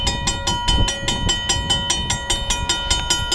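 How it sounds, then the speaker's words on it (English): A train rolls through a town, its rail cars clacking in a steady repeating rhythm with a bright tonal hum above, loud and close throughout. "You hear that, guys? There's a train."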